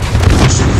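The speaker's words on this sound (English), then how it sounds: "I'm checking with the cannon" A single cannon shot in a video game booms loud and close, a short heavy blast that dies away within a second.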